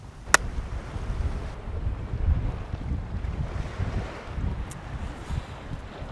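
Steady low rumbling wind buffeting a microphone fitted with a furry windscreen outdoors, a continuous muffled roar with gusty swells, plus a brief sharp tick near the start.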